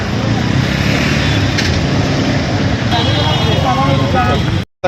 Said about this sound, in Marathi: इथे अजून एक गाडी आत्ता गेली